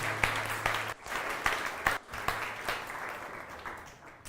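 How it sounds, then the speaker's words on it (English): Sustained applause from a workshop audience, steady dense clapping with a few sharper individual claps standing out, fairly close and continuing throughout. "another round of applause for Dimitris."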